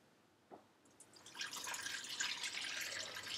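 Chicken stock is poured through a strainer lined with a towel, starting with a faint drip and building into a steady, soft splashing trickle of liquid that carries on to the end, with no talk.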